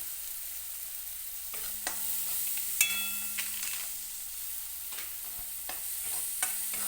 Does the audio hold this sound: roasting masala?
yes